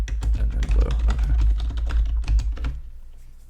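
Steady computer keyboard typing with dense, rapid keystrokes close up, continuing for about three seconds before trailing off into quiet.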